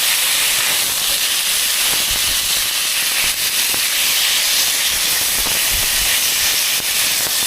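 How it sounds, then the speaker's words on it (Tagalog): Tuna belly with string beans, salt and pepper stir-frying in a hot pan, a loud continuous close hiss and sizzle with faint clatters underneath, no voices. "Stir fry."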